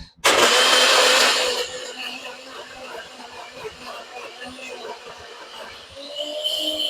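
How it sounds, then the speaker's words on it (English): A blender whirs loudly as it mixes a thick frozen cocktail, starting with a sharp roar that drops to a steadier, grinding churn with rattling, then rises again near the end, close and continuous. "we're going to take our blender"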